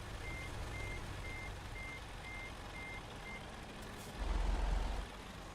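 In a truck simulator video game, a reversing truck gives a steady series of faint, evenly spaced beeps under a low engine hum, and a brief loud hiss like an air brake follows near the end.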